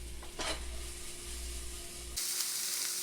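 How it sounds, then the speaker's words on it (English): Garlic with red and yellow peppers frying in a wok for pad thai gives a loud, steady sizzle with scraping stirs, then shifts to a brighter, hissier crackle near the end. "Garlic and peppers cooking up nicely"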